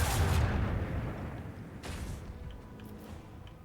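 Weapons fire in Warhammer 40,000: Rogue Trader, with a heavy booming blast up front that rolls off into a rumbling decay and a second softer burst midway, all without speech.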